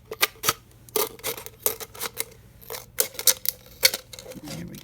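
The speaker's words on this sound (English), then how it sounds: "I just use my scissors, just because to me they're a little bit safer. So we're going to cut off the top." Scissors snip through the top of a plastic bottle in a craft session, a quick series of sharp, close crunching cuts in irregular bursts, with no voices.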